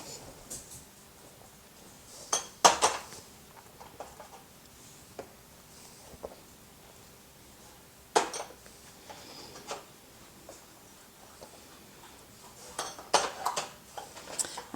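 Glass canning jar lids being tightened by hand, heard as scattered sharp metallic clinks and scrapes at irregular intervals, close but fairly quiet with silence between.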